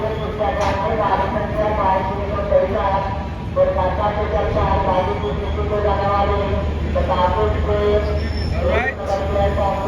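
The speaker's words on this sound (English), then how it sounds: "This is railways in India. I'm in train going to Banaras" Steady rumble of a passenger train in India bound for Varanasi rolling along the tracks, with voices murmuring and chattering faintly over the constant carriage noise.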